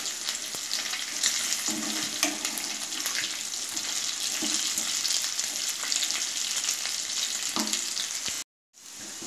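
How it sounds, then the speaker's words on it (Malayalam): Chicken pieces frying in hot oil give a steady, dense sizzle throughout, with occasional soft bubbling pops, then a brief drop to silence near the end before the crackle resumes. "ചിക്കനെല്ലാം വറുത്ത് കോരാറായി പാകമായി വരുന്നുണ്ട്."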